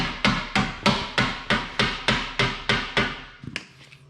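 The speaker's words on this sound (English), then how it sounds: "So we'll just take a little rubber mallet" A small rubber mallet strikes a truck running board bracket during a power step install, giving about ten evenly spaced, firm, close knocks, each with a short ringing decay, followed by a brief softer rattle at the end.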